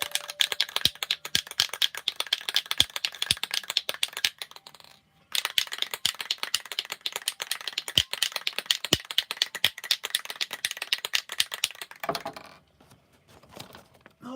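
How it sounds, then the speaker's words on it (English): A Krylon spray paint can is shaken hard, its mixing ball clicking and rattling in a fast, steady rhythm that pauses briefly twice, close and loud with no talking. "So I'm going to shake, they're going to hear clicking again."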